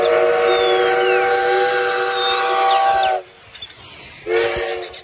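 A Thomas toy train plays a bright, electronic whistle and chugging melody for about three seconds, stops, gives a few faint clicks, then the tooting tone briefly resumes near the end.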